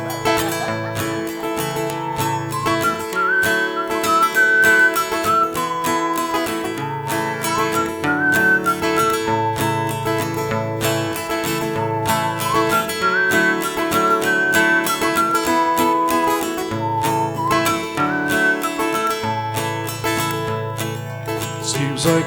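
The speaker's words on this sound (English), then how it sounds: "We'll start off with a good old whistling cowboy tune." A performer at Luigi's whistles a cowboy tune over guitar accompaniment, a clear melodic line of rising and falling notes repeated in phrases, loud and close and alone without talk.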